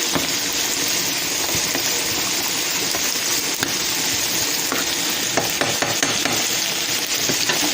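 Meat fries in a pan with caramelizing onions for spaghetti sauce while a spatula stirs it, producing a loud, dense, continuous sizzle with frequent scraping clicks close up.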